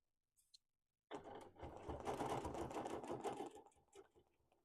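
A sewing machine doing free motion quilting on a wholecloth quilt starts after a second of near silence, then runs in a fast steady stitching rattle, close and moderately loud, easing off toward the end.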